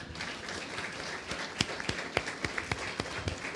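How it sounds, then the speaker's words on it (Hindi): A church congregation at a Sunday sermon claps for the Lord, a soft wash of crowd applause with a few louder, distinct hand claps standing out in loose rhythm toward the end. "क्यों ना प्रभु के लिए ताली बजाएं"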